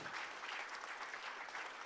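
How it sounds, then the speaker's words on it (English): Wedding guests applaud the newly married couple at a ceremony in Provo, Utah, a dense, steady clapping that fills the room at even loudness with no voices over it. "please give a round of applause to the brand new Mr. and Mrs."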